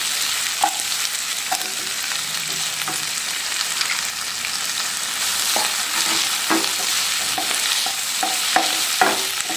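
Onions, green chillies, curry leaves and carrot sauté in hot oil, giving a constant close frying hiss with scattered clinks and scrapes from stirring.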